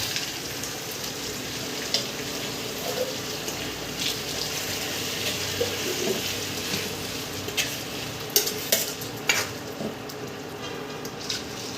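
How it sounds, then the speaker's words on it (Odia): Spice paste frying in a pan for an Odia chicken curry, a steady sizzle with occasional scraping clinks of stirring, alone and fairly quiet. "ଏବେ ବାଟଣ ଏବେ କଷାଯିବ"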